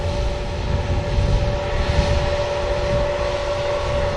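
A colourful-liveried airliner taxiing out at a busy airport, its engines giving a steady, continuous roar with a constant whine running through the whole stretch, fairly close and with no talk over it.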